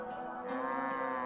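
A cow lows in the Black and White 2 god game, one sustained tonal moo that rises and holds for just over a second, close and clear with faint game ambience behind.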